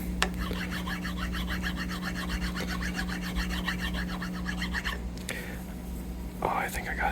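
A sanding block rubs back and forth across the finish of a vintage SSD Spector bass guitar in a rapid, even rasping rhythm, close and soft, stopping near the end.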